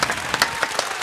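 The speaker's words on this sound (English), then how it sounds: "Give him a round of applause." An audience applauds Bobby Brown during a talk-show style entertainment appearance with BBD: a brief burst of dense, fairly loud clapping with a few sharper peaks and no talking over it.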